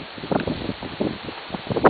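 Gusty autumn wind buffets the microphone in uneven bursts in a cottage garden, with a rustling, rumbling texture rising and falling throughout.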